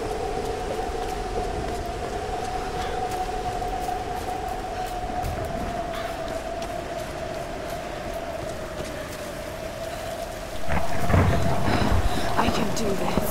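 Low rumbling thunder rolls through a stormy scene in Tomb Raider Definitive Edition, a steady deep roar with rain-like hiss that swells louder near the end, with no speech over it.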